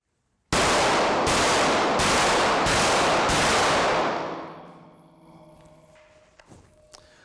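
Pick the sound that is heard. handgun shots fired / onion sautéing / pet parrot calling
handgun shots fired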